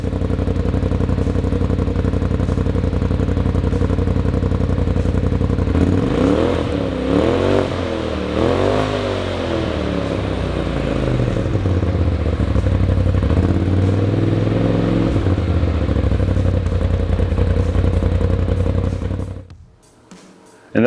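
Polaris RZR Pro XP engine fitted with an S&S Power Tune XTO muffler, idling loudly up close, then revved in several rising and falling sweeps before settling and shutting off near the end.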